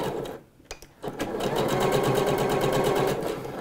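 A sewing machine runs steadily, stitching a folded hem 2 mm from the fabric edge on a dress, starting after a brief pause and continuing close and loud.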